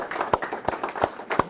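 An audience at a men's club lecture gives applause, heard as a few sparse, soft claps spaced out over a moment in a room.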